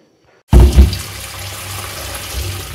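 Running tap water suddenly gushes over Indian gooseberries (amla) as they are washed, with an abrupt splashing start followed by a steady, close stream of flowing water.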